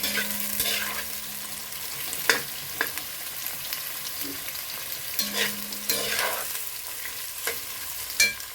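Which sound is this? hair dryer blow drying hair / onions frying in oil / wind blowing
onions frying in oil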